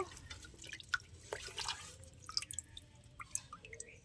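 Live koi fish are lifted out of a water-filled bucket, and water drips and trickles back in a quick, irregular patter of small splashes, faint and close, with no talking.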